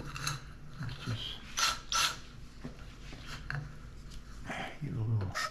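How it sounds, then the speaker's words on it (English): A cylinder hone works inside a Maglite flashlight tube during a repair, giving irregular scraping and rasping strokes that rise and fall close up, with some quiet mechanical clicks between them. "running the hone in there again"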